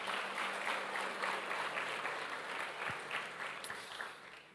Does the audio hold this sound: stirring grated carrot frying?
no